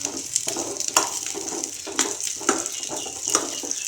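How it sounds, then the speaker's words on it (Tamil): Small onions, ten garlic cloves and two pieces of ginger sauté in a pan for a bitter gourd tamarind curry, a steady close sizzle with periodic stirring scrapes and clinks, no talking. "இதெல்லாமே போட்டு இதெல்லாமே நல்லா வந்து நம்ம வதக்கி விட்டுடலாம்"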